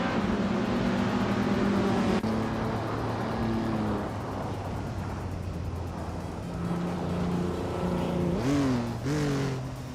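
A 1959 Maserati 3500 GT racing engine in a video game drones and revs steadily, with shifting tones and a sharp rising rev near the end, other cars around, no talk.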